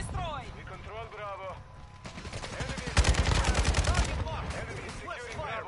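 RPK machine gun fire in Call of Duty MWII multiplayer, a rapid rattling burst that swells loud around the middle of the clip, following a stretch of talk and heard under further speech.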